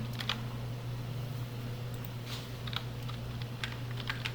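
Close, steady typing on a computer keyboard with light, irregular key clicks and a final firmer keystroke like the Enter key, over a constant low electrical hum.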